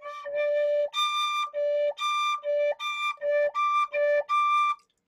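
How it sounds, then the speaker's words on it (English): Irish tin whistle played in a run of clear, bright notes that step between a lower tone and the high D, each note separate with short gaps, close and alone. "Trying to get into that high D, this whistle, that's what it does."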